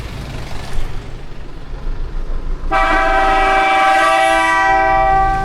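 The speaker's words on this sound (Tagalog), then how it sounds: "Grabe naman yung busina nun." On a road trip near Mt. Olis, a loud vehicle horn sounds at close range over engine rumble, giving a long, sustained multi-tone blast that starts partway through and continues to the end.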